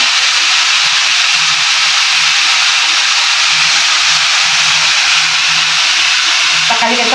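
Duck oseng being stir-fried in a pan gives a loud, constant sizzling hiss with faint scraping stirs underneath, steady from start to finish.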